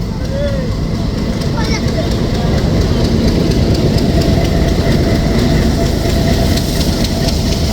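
A local train from Lalmonirhat, bound for Santahar, rolls onto the line with a steady low rumble and rattle of cars, while someone talks over it.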